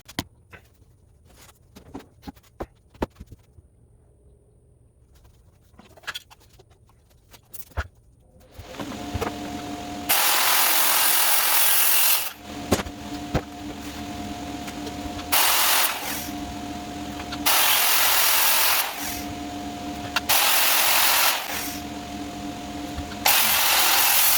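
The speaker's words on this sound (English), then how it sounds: "So I'm going to run all these straight lines with my circular saw guide" Circular saw cutting plywood along a straight saw guide during a van floor build: quiet handling knocks at first, then the saw screams loudly through several long cuts, spinning down briefly between passes, close by with no talking.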